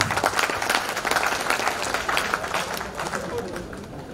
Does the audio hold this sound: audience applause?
yes